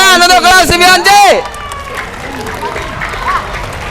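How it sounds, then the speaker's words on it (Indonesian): An audience at a school quiz competition claps for a class. A loud voice speaks first, then a wash of scattered clapping and crowd murmur carries on at a moderate level. "Tepuk tangan untuk kelas 9C."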